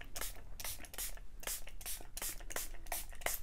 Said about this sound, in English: And then let's spray.